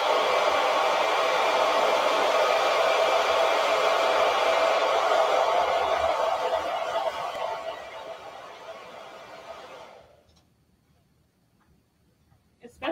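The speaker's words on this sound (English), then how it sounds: "So now I'm just going to dry this a little bit with our hair dryer so I can move on to the next step." A hair dryer blows on a painting in progress during a teen painting class, a steady loud whooshing roar that runs for about ten seconds and then cuts off, leaving near silence.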